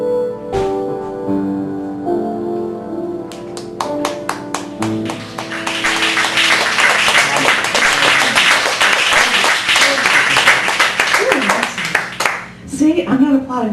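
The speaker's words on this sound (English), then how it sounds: "See, I'm not applauding myself" Applause at an open mic poetry night: a few scattered claps begin over lingering tones, then swell into dense, continuous clapping from a small audience, close and loud, with voices mixed in.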